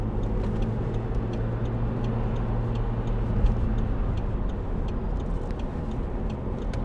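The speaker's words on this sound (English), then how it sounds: "I'm going to hit the loud pedal going up the dual carriageway" A 2008 Audi TTS 2.0 TFSI roadster with S tronic and quattro accelerating hard up a dual carriageway, heard as a steady, loud engine and road roar from inside the car, with light ticking over the top and no talking.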